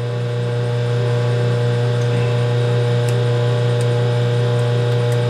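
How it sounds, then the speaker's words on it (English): Drilling a hole in thick steel for a sawmill build, a steady loud machine drone and whir holding constant throughout, with faint occasional ticks of cutting on top and no speech. "So it's still drilling."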